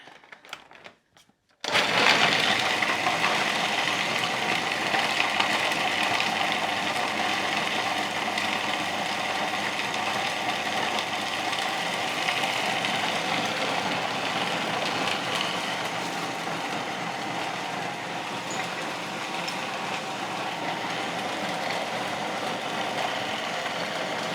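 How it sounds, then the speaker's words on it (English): A blender runs steadily and loudly for over twenty seconds, whirring through energy ball ingredients for a no-bake recipe after a short quiet start. "now I will blend this together"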